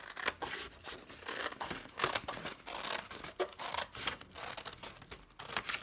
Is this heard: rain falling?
no